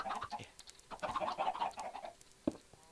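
Video game chickens give a few quiet clucks and short squawks in a loose, irregular cluster, ending with a sharper single cluck, faint and without talk.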